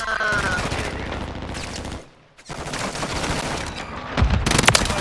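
Video game gunfire, dense rapid automatic bursts with sharp cracks, a short lull midway, then more heavy firing.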